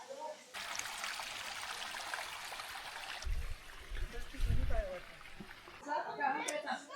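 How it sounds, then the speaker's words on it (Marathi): Water at the Marleshwar temple waterfall rushes down and collects in a pool before flowing on, a steady broadband wash with a few deeper surges, close and fairly loud with people talking over it. "इकडनं सर्व पाणी खाली येत होतो, इथे जमा होतो या ठिकाणी, आणि नंतर मग तो पुढे वाहत जातो"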